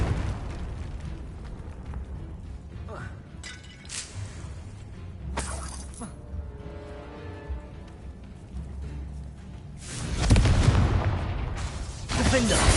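Confringo blasting spells in Hogwarts Legacy gameplay, a dense stream of explosions and shattering debris over ongoing game rumble, with a heavier burst toward the end; a voice is heard among the effects.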